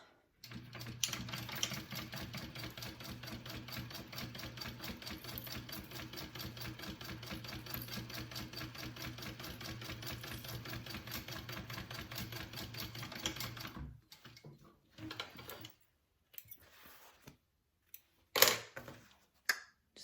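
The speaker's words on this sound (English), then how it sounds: "I'm going to go ahead and top stitch this." A sewing machine runs steadily for about fourteen seconds, top stitching a circle bag, with a dense rapid needle rhythm before it stops, followed by a few scattered handling clicks and thumps.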